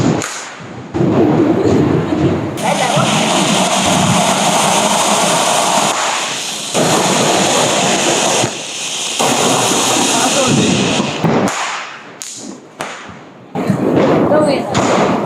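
Diwali firecrackers burst close by in long, loud, crackling roars broken by a few short pauses and scattered pops, with voices faintly present underneath.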